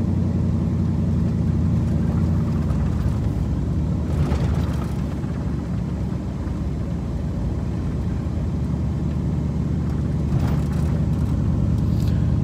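A Nissan Titan pickup's engine idles steadily after a battery jump, a loud, continuous low rumble close by with no speech over it.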